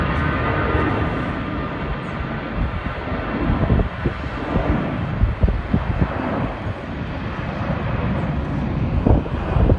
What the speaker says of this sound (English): Airplane's taking off.